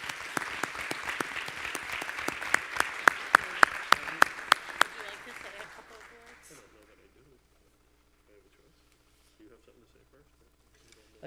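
A board of education meeting audience applauds board member Tim Oakes in a hall, a steady round of clapping with several sharp close claps that fades out after about six seconds into near silence and faint murmuring.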